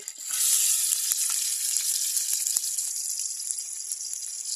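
Country chicken pieces fry in hot oil on a clay stove with a loud, steady sizzle and bright crackling that starts suddenly and keeps going, with no talk.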